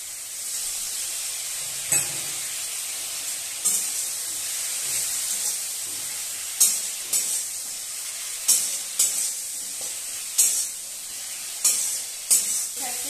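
Spices frying in a pan sizzle with a bright, continuous hiss after water is added, broken by repeated soft clicks and scrapes of stirring at close range.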